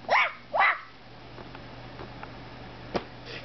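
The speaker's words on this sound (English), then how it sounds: "The doggy over there." A dog barks twice in quick succession near the start, then quieter yips and a short sharp bark follow in an otherwise calm room.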